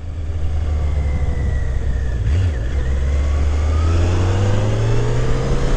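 A 1983 Yamaha Seca XJ900RK four-cylinder motorcycle engine runs steadily and close, a smooth continuous hum with a brief rise in revs partway through, with no talking.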